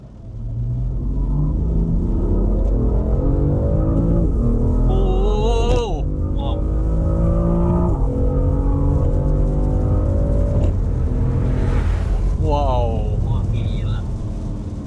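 A BMW M3 fitted with an Akrapovic exhaust accelerates hard from second gear in Sport Plus mode, engine note rising loudly through the revs with a gear change midway and another climb, heard from inside the car with voices talking over it.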